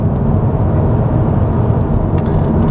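Steady broadband road roar from an Audi RS3 rolling on a coarse road surface, heard from inside the cabin as a constant low rumble with no breaks and no voices.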